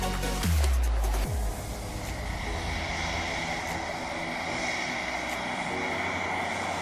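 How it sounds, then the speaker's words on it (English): A propeller airplane roars loudly up close, then its engine settles into a steady, droning hum that continues without pause. "the plane finally arrives carrying a new boat and supplies for next spring's bear hunt"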